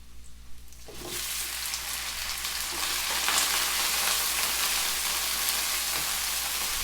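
Cleaned chicken feet with skin and nails removed hit a hot pan and burst into a loud, steady sizzle that rises suddenly and keeps hissing evenly, no voices over it.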